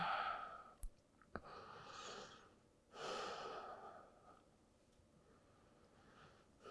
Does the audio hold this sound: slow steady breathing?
yes